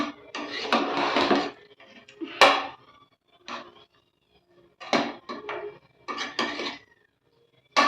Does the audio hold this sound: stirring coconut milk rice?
yes